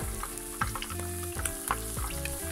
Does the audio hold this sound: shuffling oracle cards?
no